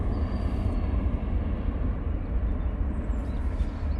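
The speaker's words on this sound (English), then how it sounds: "737-800 now departing." A Ryanair Boeing 737-800 jet departing Manchester Airport, a steady loud low jet-engine roar and rumble that holds evenly throughout with no voices.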